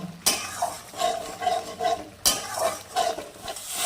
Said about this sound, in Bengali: এবার আমি একটু চিনিটাকে ভালো করে মিশিয়ে নিব।